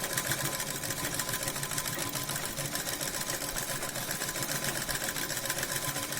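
Sewing machine stitching piping onto a princess-cut blouse, a steady fast mechanical whir running continuously and close up with no talking.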